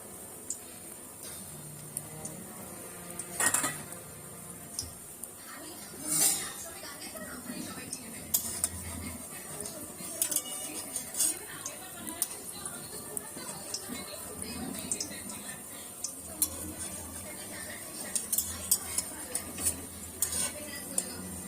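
Bora fritters fry in hot oil over a lowered flame, with a steady soft sizzle under repeated clinks and scrapes of a utensil against the pan, close by, and a voice talking over it at times.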